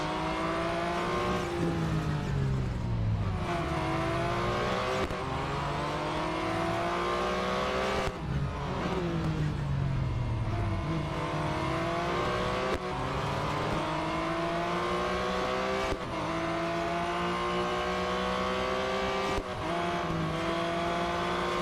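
A Porsche 911 GT1 race car engine howls near and loud, its revs climbing and dropping repeatedly through the gear changes over a continuous roar.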